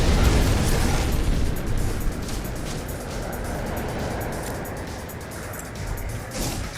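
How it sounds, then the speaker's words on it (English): Rocket launcher blasts in No Man's Sky go off as a heavy, rumbling explosion that opens loud and then trails into crackling, sputtering debris noise. Short pops follow as the sound fades. "This is really easy because they gave us a rocket launcher."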